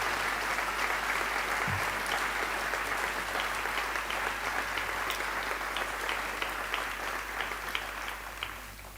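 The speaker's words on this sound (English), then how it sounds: "Can we please say thank you to her with an applause?" Sustained applause fills a hall at a girls' school prize giving, a dense, steady patter of many hands clapping that holds at an even level and thins slightly toward the end.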